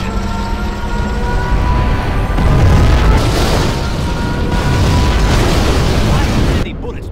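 A nuclear missile detonates in the real-time strategy game C&C Generals Zero Hour: a loud, sustained rumbling blast with heavy low-end roar that rolls on for several seconds before cutting off abruptly.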